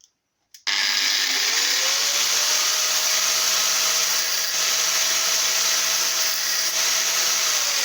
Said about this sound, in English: Now we're going to try and grind that little notch into the new bush